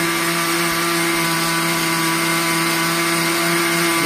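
An electric blender running while frothing homemade mayonnaise, a loud steady whirring motor drone with a constant pitch, close and unbroken throughout.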